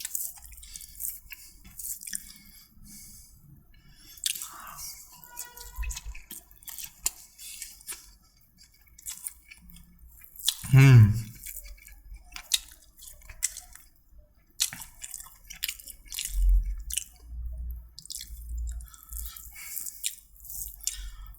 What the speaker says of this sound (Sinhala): අපි චිලි පේස්ට් එක කලවම් කරගමු.